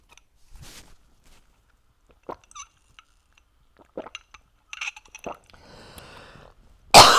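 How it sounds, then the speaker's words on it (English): A person coughs and clears their throat a few times after taking a drink to settle nausea from morning vitamins, with faint clinks of a glass in between and a loud burst at the end. "I guess I needed to cough something out."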